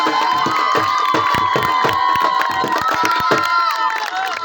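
Spectators at an open village kabaddi match between Nangh Badal and 72 Gadian clubs cheer and shout loudly, with children's high yells and whistles over a dense crowd roar and some clapping, close and energetic throughout.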